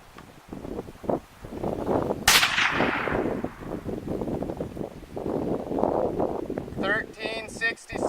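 A Ruger 10/22 rifle fires Browning 22 Long Rifle rounds at an outdoor range, giving one sharp crack that rings out mid-clip. Someone talks before and after the shot, and wind noise runs throughout.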